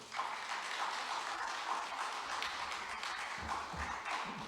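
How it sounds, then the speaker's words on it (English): Audience at a town meeting applauding for local park residents, a steady broadband patter of clapping lasting several seconds at moderate distance, no voices over it. "If you're here, give yourself a round of applause"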